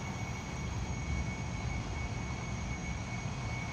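A jet engine runs steadily in a DCS World F-100D cockpit, giving a constant loud roar with a high whine layered on top, unbroken for a few seconds with no voices.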